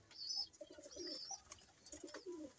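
Pigeons coo softly in short rounded phrases, fairly close and quiet, with a few bird calls layered between the coos.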